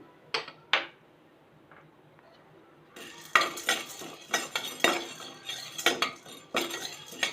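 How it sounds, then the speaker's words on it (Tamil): Two sharp clinks of metal on a pan, then dry chana dal rattles and scrapes in rhythmic strokes as it is stirred while roasting on low heat, close and clear. "முதல்ல கடலைப்பருப்பு போட்டுக்கிறேன்."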